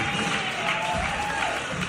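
A concert crowd applauds and cheers for a Ukrainian singer, a steady dense wash of clapping and crowd noise at even loudness throughout, with a faint sustained tone beneath.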